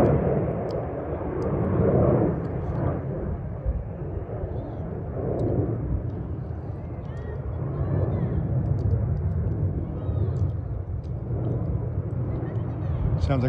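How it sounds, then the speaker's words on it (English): A USAF Thunderbirds solo jet takes off at an air show, a broad distant roar that builds and swells in waves across the runway area and holds for several seconds. "Sounds like a solo's taking off."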